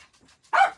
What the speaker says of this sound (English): as soon as we go live, he barks